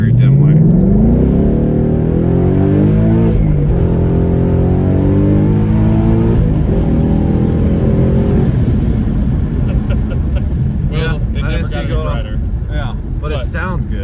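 A 2020 Ford Mustang GT with a Roush active exhaust revs repeatedly, its loud raspy engine note rising and falling in sweeping pulls, with people talking over the later revs.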